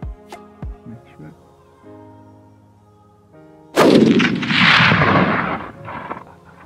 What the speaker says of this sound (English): here's the clip of him shooting a mounted Reebok with it